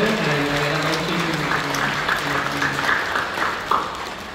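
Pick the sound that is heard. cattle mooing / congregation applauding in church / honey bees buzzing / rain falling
congregation applauding in church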